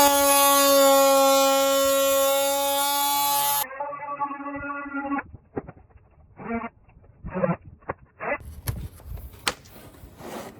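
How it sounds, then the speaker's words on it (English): An oscillating multi-tool cuts into an HTC heat shield during a C8 engine cover install, giving a loud, steady, high buzz for a few seconds, then quieter broken bursts of cutting and handling noise. "The next tool I'm using is my oscillating saw or a multi-tool"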